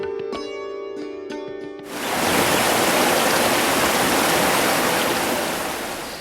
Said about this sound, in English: Here are 3 streams called Sandhya, Lalita and Kanta.